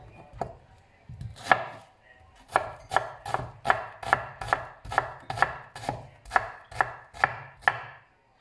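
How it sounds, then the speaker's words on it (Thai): A knife chops shallots rhythmically on a cutting board, a series of sharp, evenly spaced knocks after a few slower cuts, close and clear. "จากนั้นก็มาหั่นหอมค่ะ"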